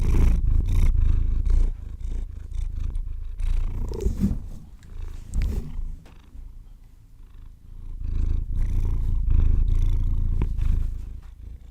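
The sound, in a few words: cat purring loudly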